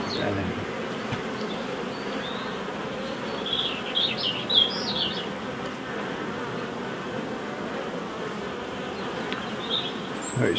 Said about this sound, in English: Oh, there's a lot of bees in there. Loads of bees.